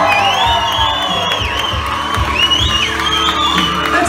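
Wedding guests at a country club reception cheering and whooping, with loud excited shouts and high voices over the crowd and music underneath.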